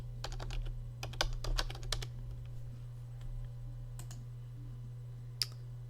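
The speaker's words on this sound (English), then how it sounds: "Just type in the address." Keys on a computer keyboard clatter in quick irregular bursts as a web address is typed into a browser, then thin out to a few scattered taps over a steady low hum, with no one speaking.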